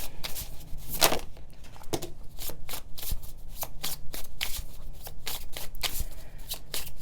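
Tarot cards being shuffled by hand during a Scorpio reading, a steady run of crisp riffling and slapping card sounds, close and continuous for several seconds, no talk.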